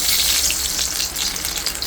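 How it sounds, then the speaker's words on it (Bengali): Chopped onions hit hot oil in a pan while cooking bitter gourd fry, giving a loud, steady hiss and crackle that fills the short moment without any talking. "এখন পেঁয়াজ কুচি দিয়ে দিলাম"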